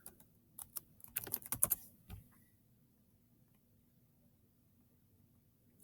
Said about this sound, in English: We're going to type in, how about surfboard?